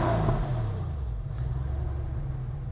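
The air-cooled engine of a Porsche 993 runs steadily at close range, its cooling fan whirring over a low, even rumble with no change in pace.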